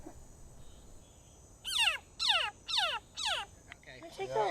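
A Savage's thin-toed frog gives four loud, descending chirping warning calls in a steady rhythm over quiet Costa Rican lowland rainforest night ambience, then a softer trill begins.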